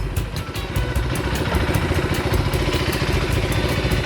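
A 2025 KTM 390 Adventure X motorcycle engine idles steadily with a rapid, lumpy mechanical putter and some clatter, close and fairly loud throughout.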